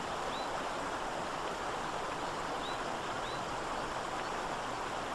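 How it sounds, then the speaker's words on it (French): Continuous rushing of flowing mountain water, a steady broadband wash filling the scene with no pauses, with a few faint high bird chirps above it. "Et le bruit continu de l'eau."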